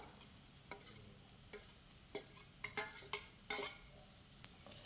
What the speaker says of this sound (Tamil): சேர்த்திட்டு இப்போ நல்லா நம்ம கிளறி விட்டுக்கலாம்